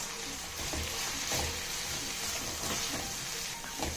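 Steady sizzling and frying from tomatoes sautéing in a pan, with occasional soft stirring scrapes, continuous and fairly close.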